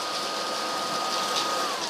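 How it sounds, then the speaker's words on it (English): A Eureka RapidClean Pro cordless vacuum cleaner runs with a steady, dense whirring hiss and motor drone, close and constant with no pauses. "if we're going to talk about the Eureka RapidClean Pro, it actually has a couple of modes here. So if we turn it on, that is the first mode"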